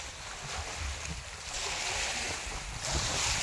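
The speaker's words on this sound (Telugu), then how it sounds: "గాలి బాగా వస్తుంది" Strong wind over the sea roars steadily in a rainstorm with a rushing, surf-like wash, loud and continuous, swelling in gusts toward the end.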